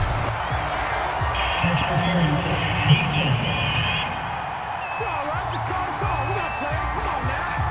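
A home crowd in the Madden NFL 22 football video game roars steadily and cheers a call, a dense, continuous stadium wash with faint whoops, while commentators talk over it.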